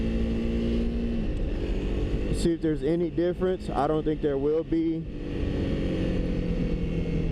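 A 2025 Honda CRF300L engine idles with its silencer removed and exhaust left ungutted, a steady low rumble before and after a short stretch where someone talks over it.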